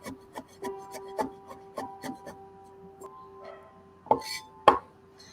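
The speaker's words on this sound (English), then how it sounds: "I will just be chopping these mushrooms meanwhile." A knife chops through mushroom stems on a board, a series of sharp wooden taps at an irregular pace, closely miked and fairly quiet, with two louder strikes near the end.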